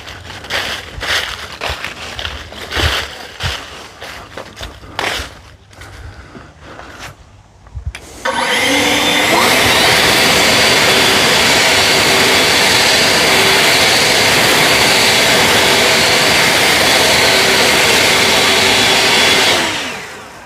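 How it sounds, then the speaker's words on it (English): Two EGO battery-powered leaf blowers, a 765 CFM and a 530 CFM model, blowing leaves outdoors: choppy bursts at first, then a loud, steady high-pitched whooshing roar held for about twelve seconds before cutting off. "I'm going to show you how each one of them blows the leaves."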